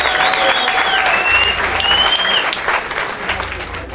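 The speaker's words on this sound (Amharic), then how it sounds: "ሶስት ጊዜ ለመጣ ሰውማ ይሄ ብቻ አይደለም ጭብጨባ።" Studio audience applause on the Ethiopian singing competition Yemaleda Kokeboch, a broad sustained clatter of clapping that fades slightly toward the end, with a whistle-like tone and faint cheering riding above it.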